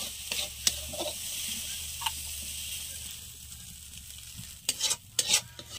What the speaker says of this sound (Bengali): আমার মাংসটা কষানো হয়ে গেছে, এবার আমি তুলে নেব।